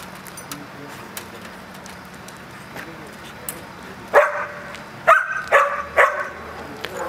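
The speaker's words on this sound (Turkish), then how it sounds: "K9 arama köpeğimiz enkazda bir yeri tespit etti" A search and rescue K9 dog on earthquake-drill rubble gives several sharp, loud barks close by near the end, after a stretch of quiet background with people talking.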